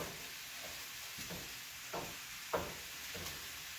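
A series of dull chopping knocks from a meat chopper breaking up meat in a frying pan, roughly every half second to second, over a constant sizzling hiss of frying.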